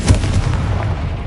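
A Confringo fire spell blast in Hogwarts Legacy on PS5 hits as one loud, heavy boom with a rumbling tail, close and alone.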